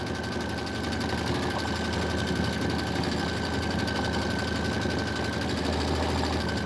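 A Stellar embroidery machine steadily stitches a Kimberbell Enchanted Winter design. It makes an even, fast-pulsing mechanical whir with a constant whine, close and unbroken throughout.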